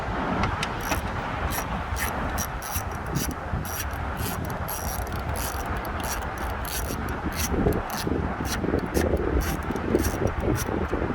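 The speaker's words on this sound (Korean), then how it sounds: "10mm 볼트 풀고요." A ratchet wrench clicks repeatedly while loosening a 10 mm bolt on a first-generation Kia K5, steady mechanical ticking over constant wind noise and neighbourhood background hum outdoors.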